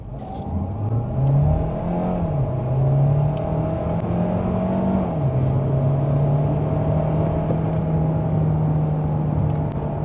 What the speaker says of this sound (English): let's see if we can do another acceleration over here